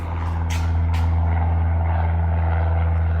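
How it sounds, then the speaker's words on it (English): An airplane lumbers through its climb-out with a heavy, steady low engine drone, opened by a couple of short hissing bursts. "Airplane noises."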